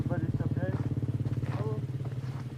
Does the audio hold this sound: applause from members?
no